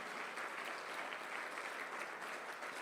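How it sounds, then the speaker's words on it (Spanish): Church congregation applauding together, a steady dense wash of many hands clapping at moderate distance with no pauses, filling the space evenly throughout. "Yo le daría un fuerte aplauso al Señor Jesús."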